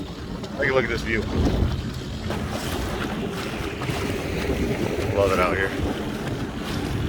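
A jetski on open water in the evening, heard as a steady engine drone mixed with wind buffeting the microphone and water noise, while someone talks over it.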